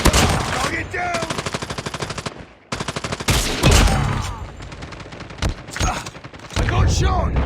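Rapid automatic gunfire bursts from Call of Duty Mobile, loud and close with dense repeated shots, brief pauses and a chaotic battle mix, with game voice callouts under the fire.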